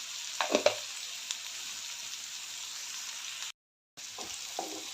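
Chopped onion with a little salt frying in a pan for kanda pohe: a steady close sizzle with a few clinks and stirring scrapes near the start and end, and a brief total dropout partway through.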